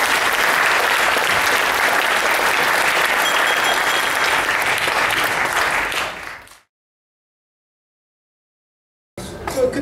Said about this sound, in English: big round of applause for Adrian, please.